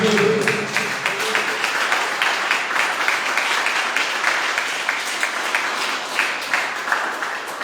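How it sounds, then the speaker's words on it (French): A church congregation clapping together in steady, rhythmic applause for several seconds, dense and fairly loud, with a brief voice at the start. "Can you give a clap offering to the Est-ce Lord?"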